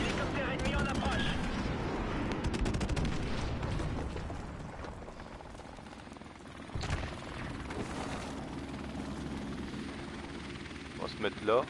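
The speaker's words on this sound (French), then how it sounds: "Hélicoptère ennemi en approche." Enemy helicopter in the Modern Warfare Remastered video game, a steady rotor drone and whine mixed with bursts of gunfire and explosions throughout the battle.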